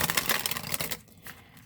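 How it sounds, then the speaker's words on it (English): Tarot cards shuffled by hand give a crisp, rapid run of papery riffling clicks for about a second, then fall to a quieter, sparse rustle. No one speaks. "I'll do one more shuffle and we will get going."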